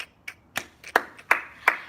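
Six separate hand claps spaced irregularly across two seconds, close and crisp, each a short sharp smack with no voices around them.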